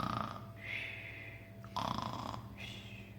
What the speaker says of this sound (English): while the Gruffalo snored